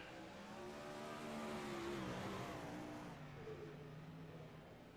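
A sim race car laps Lincoln Speedway in a racing simulator, its engine droning steadily with a rising and falling pitch, faint and continuous with no talk.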